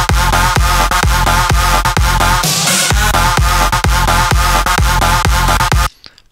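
An electronic dance track plays loud and full, with a steady pounding kick pattern, a brief sweeping breakdown near the middle, then cuts off abruptly near the end.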